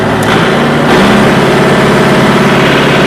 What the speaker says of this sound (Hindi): अब ट्रैक्टर चालू कर दो, ट्रैक्टर ही पहले चलना चाहिए